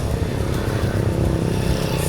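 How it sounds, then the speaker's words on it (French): Scooters ride by on Pangkor island, Malaysia, in a close, steady, continuous engine drone that holds loud and even throughout with no pause. "C'est envahi de scooters de partout"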